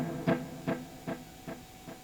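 Guitar note through a Boss DD-500 delay pedal set to 400 milliseconds, repeating five times at even intervals, each echo slightly quieter than the last, over a faint steady hum.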